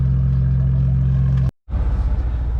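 A Ford Bronco engine fitted with a new exhaust drones loud and steady up close, cuts out abruptly for a moment, then returns with a pulsing, throbbing rumble.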